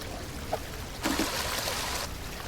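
Water pumped out of a flooded city street in the game Drain Sim, a low steady gush that swells into a brighter, louder rushing surge for about a second before dropping back.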